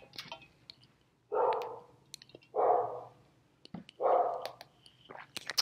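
Dogs bark from another room in a house, three distinct, moderately loud barks spaced about a second apart amid faint clicks.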